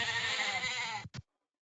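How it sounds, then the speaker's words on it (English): A goat bleats loudly and close up in one long, wavering cry, followed after a brief gap by a short second bleat, then silence. "Or would you rather win a goat?"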